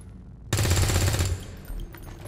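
A burst of automatic gunfire rips out abruptly in the game XCOM 2, a loud rapid stream of shots lasting under a second, followed by a trailing rumble and a faint echo.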